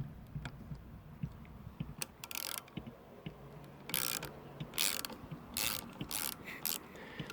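A ratchet loosens a bolt on an R33 Skyline GTR's RB26 engine, with close clicking pawl strokes and sharp bursts of ratcheting in uneven runs.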